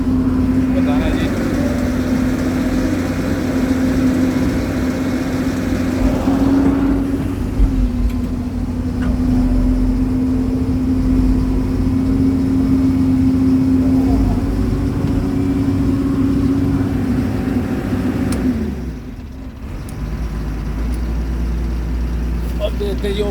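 A Hyundai R215L excavator idles steadily after a swing motor and reduction unit repair, a loud continuous diesel drone with a strong low hum that dips briefly near the end before resuming.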